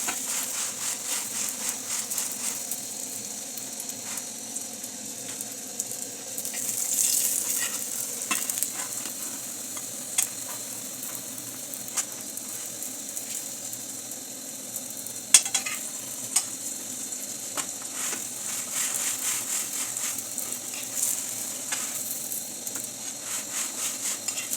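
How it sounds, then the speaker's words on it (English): Kenyan chapati frying in soybean oil, a steady close sizzle and hiss with occasional light clinks of a pan or utensil, continuous and fairly quiet with no talking. "We are using the soybean oil to cook our chapati."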